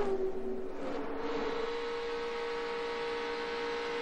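Race car engines hum at Talladega racetrack during a stock car race, a steady distant drone with a sustained tonal whine, fairly faint and without talk.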